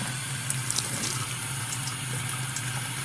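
Tap water runs steadily during a rinse at a sink, a soft, even hiss of flowing water with a few faint splashes and drips near the start.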